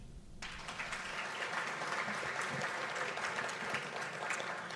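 Audience applause at an economic development announcement, a sustained, dense clapping from a crowd starting abruptly and continuing steadily at moderate loudness.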